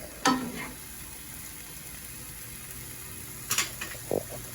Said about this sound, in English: Our mushrooms are starting to get nicely sauteed